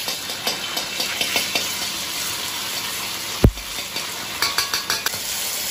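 Oil and ketchup sizzling in a ladle for sweet-and-sour sauce, a steady hiss with clinks of the ladle and one sharp thump partway through.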